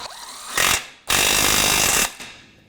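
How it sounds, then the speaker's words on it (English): Two loud, close bursts from a power tool run a 17mm socket onto a castle nut on the lower control arm ball joint of a 2005-2009 Subaru Outback. A short first whir is followed by a longer sustained one that tails off. "So now to tighten the castle nut on the ball joint, 17mm socket, and we're going to snug it up."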